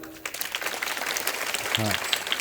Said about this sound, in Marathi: आता या सगळ्या कलाकारासाठी एकदा जोरदार टाळ्या होऊ द्या.